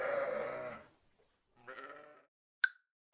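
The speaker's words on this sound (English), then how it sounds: "The sheep sprang into action and helped pull Freddy out back onto dry land." Sheep bleat at close range in a SFX-driven story scene, one long loud bleat followed by a shorter second call, then two sharp knock-like hits near the end.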